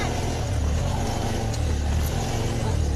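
A car stuck in thick mud revs its engine hard, a loud continuous throaty roar with slight surges, close by and without talk.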